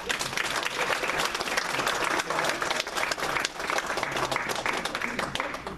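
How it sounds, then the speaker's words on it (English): A community choir audience gives the accompanist a round of applause, a full, bright wash of many hands clapping steadily for several seconds. "Will you please give her a round of applause?"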